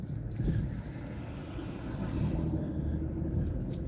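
A car creeps slowly and gently up a residential driveway, its low engine rumble steady and close throughout, with no one speaking.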